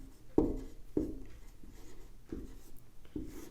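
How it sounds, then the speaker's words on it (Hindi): Names being written on a board during a Hindi lesson, a series of about five distinct scratchy strokes, close and fairly clear, spaced unevenly with quiet gaps between them and no talking. "सबसे पहले नाम लिख दिया"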